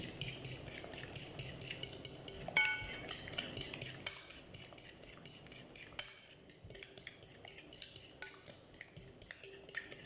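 A small spoon stirs banana cake batter in a bowl, giving steady scraping and light clinking against the sides in an uneven rhythm, close and moderately loud, with no one talking.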